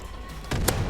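A grenade explosion in the shooter game Far Cry 5 bursts suddenly after a quiet stretch, a loud broadband blast with a sharp crack at its peak and a rumbling tail.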